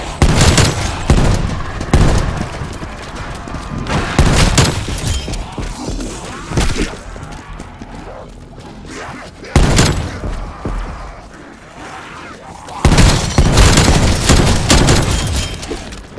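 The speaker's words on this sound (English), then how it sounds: "Hand cannon, prepping fire." Hand cannon gunfire in the Call of Duty Black Ops Cold War video game, loud bursts of heavy shots and booming impacts in several waves, with faint voices in the mix.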